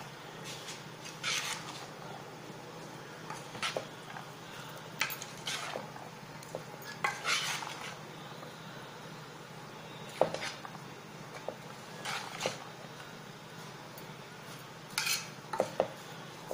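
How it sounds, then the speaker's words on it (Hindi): A spoon clinks against a dish while mixing tamarind chutney into spicy chickpeas, giving soft scattered taps and scrapes with brief clusters of clinks over quiet room background. "इसमें हम थोड़ी सी इमली की चटनी डालेंगे। और इसको हम अच्छी तरह से मिक्स कर लेंगे।"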